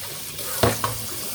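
Water splashes briefly into a container being filled to rinse yarn, with two short bursts of pouring over a quiet background.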